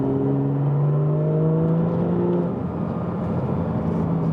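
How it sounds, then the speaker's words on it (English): A Porsche 718 4.0L engine with a Soul valved exhaust revs and hums steadily, its exhaust tone rising and falling with a throaty rumble, close and loud with no talking. "you can kind of hear right away a little bit more noise from the exhaust"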